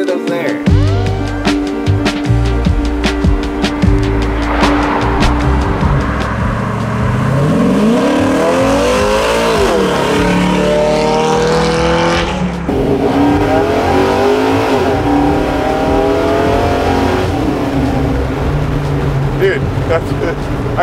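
A 600 hp square body Chevy C10 truck accelerates hard, its engine rising in pitch through the gears with a brief shift around the middle, loud and close, as voices talk over it.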